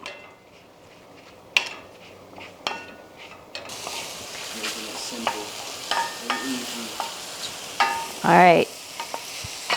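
Shiitake mushrooms seasoned with salt and pepper sizzle and fry in a pan, with scattered clinks and scrapes of a utensil stirring them, close and fairly loud; a voice speaks briefly.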